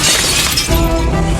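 Glass shatters loudly in a broad, noisy crash, followed by a dense scatter of tinkling shards and debris settling over the next second.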